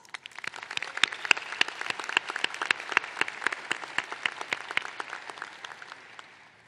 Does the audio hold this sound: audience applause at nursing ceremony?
yes